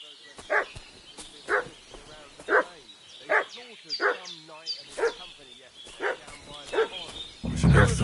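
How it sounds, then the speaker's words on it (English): A dog barks in Kingdom Come: Deliverance II, with sharp, fairly close barks repeating at a steady, roughly one-per-second rhythm for about eight seconds, a few softer yips mixed in. "What's that dog making such a fuss about?"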